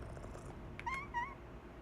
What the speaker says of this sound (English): Orange cat.